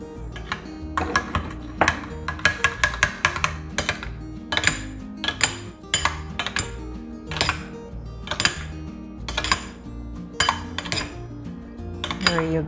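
Coleslaw tossed with pepper in a bowl: a utensil clinks and scrapes against the bowl in quick irregular bursts, with some pauses, over a low steady background hum.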